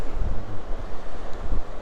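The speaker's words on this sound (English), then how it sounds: "It's a little too windy to fly the drone." Strong wind buffeting the microphone on Ruby Beach, a dense low roar with gusty pulses and surf blended in, steady and close throughout the short moment.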